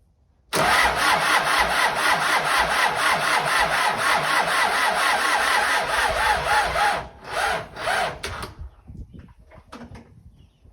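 An MTZ tractor engine cranks with the help of a booster, a loud, fast, rhythmic churning that starts abruptly and runs for about seven seconds. It then falters into a few uneven bursts and dies away.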